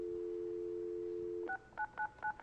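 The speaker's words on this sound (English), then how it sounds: "Now let's see what happens when I dial this." Telephone keypad DTMF tones on a test phone system: a steady dial tone gives way to four short, clear dialing beeps in quick succession, close and alone without speech.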